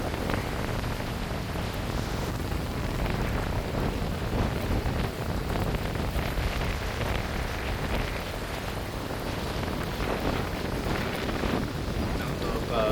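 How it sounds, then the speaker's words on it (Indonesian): Strong wind at Lake Sarangan under overcast skies after rain, a loud continuous rush of gusts buffeting the microphone throughout. "Anginnya sangat kencang sekali."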